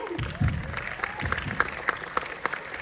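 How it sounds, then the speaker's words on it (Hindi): Scattered applause from an audience at Crescendo 2025, a college event in Haldwani, with a few sharp claps rising briefly above a murmuring room and a low voice at the start. "तालियां हो जाए।"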